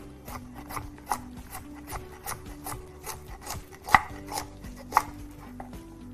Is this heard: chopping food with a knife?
yes